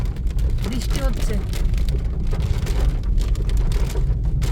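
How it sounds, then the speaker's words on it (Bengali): Heavy rain pours down in the forest at Ayodhya Hills in Purulia during a stormy, windy spell, a loud, unbroken hiss close around the listener with a brief voice surfacing under it. "বৃষ্টি হচ্ছে।"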